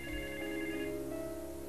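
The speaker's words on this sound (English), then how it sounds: "And then the phone rang." A telephone on a private line rings with a steady electronic tone, moderately loud and alone, no voices over it.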